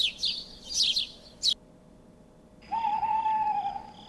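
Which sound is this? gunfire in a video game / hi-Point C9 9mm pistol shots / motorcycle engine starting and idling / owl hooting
owl hooting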